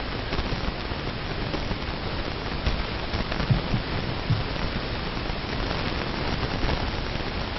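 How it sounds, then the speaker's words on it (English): Heavy rain pours down during an outdoor project commissioning ceremony in Nigeria. It makes a steady, dense hiss with no let-up and a few faint low thumps mixed in. "the rain seems not to abate at this time"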